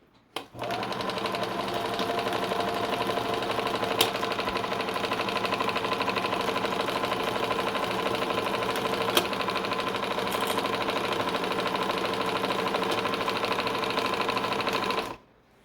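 A sewing machine runs steadily at a constant, fairly loud whir with mechanical clatter, starting abruptly and stopping just as suddenly after about fifteen seconds, with a couple of faint clicks along the way.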